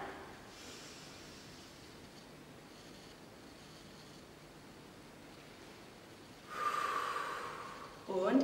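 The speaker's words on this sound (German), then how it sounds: "Okay, einatmen durch die Nase." Someone draws a long breath in through the nose during a guided breathing exercise, a close, airy rush that swells near the end over a quiet hiss.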